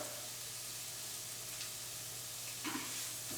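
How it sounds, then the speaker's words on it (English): Oil added to a hot pan of fresh seasoning for saltfish pie sets off a steady, soft sizzle that hisses along quietly, with a couple of brief stirring scrapes near the end. "I'm going to add the rest of my oil"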